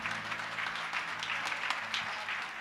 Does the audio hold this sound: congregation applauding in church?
yes